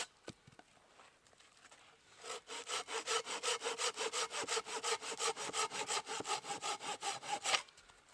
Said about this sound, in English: the silky saws, they cut on the back stroke